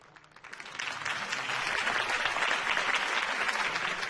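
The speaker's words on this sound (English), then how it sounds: "could have heard that applause" A crowd in the video game Batman: The Telltale Series bursts into steady applause that swells after a brief quiet start and keeps going at full strength, many hands clapping together.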